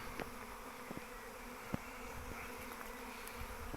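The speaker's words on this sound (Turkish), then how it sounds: "Şimdi hala burada yer arayan arılar var ana için" A steady, dense drone of a honeybee swarm buzzing together, continuous throughout, with a few brief clicks and knocks nearby.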